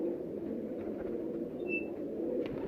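A pigeon kept by a fancier coos softly in a low, steady murmur, faint and somewhat distant, with a brief high chirp near the middle and no speech.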